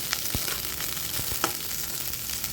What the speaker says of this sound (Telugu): ఈ ఉల్లిపాయ కూడా ఇట్లాగా వేపుతున్నాను.